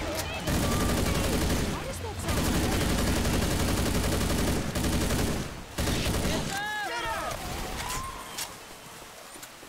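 Dense, sustained gunfire from the video game Left 4 Dead 2 fills the clip with rapid, loud bursts that break off briefly a few times, and a voice speaks over part of it.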